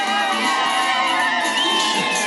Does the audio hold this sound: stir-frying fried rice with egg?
no